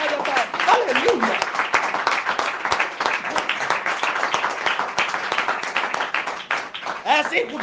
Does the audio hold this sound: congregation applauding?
yes